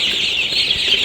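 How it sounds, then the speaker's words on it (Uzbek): Jersey Giant chicks about twenty days old peep in a continuous, high, thin chorus of overlapping chirps, close by and fairly loud. "Bu yoqda jersigan zotli jo'jalarimiz bor."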